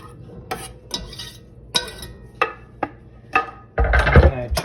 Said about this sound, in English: I am just going to put all of the onions and the garlic in here first.